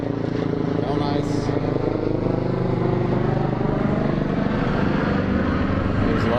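A man imitates a helicopter with his voice, a steady throaty rumbling buzz held loudly and close for several seconds.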